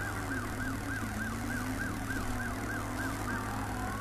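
Police car siren in Driver San Francisco wailing in a fast, regular up-and-down cycle, loud and continuous over a low rumble of engine and road noise throughout.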